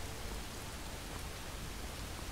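Heavy downpour in Skyrim, a steady dense wash of rain hissing evenly across the whole moment with no pauses, fairly quiet overall and with no voices over it.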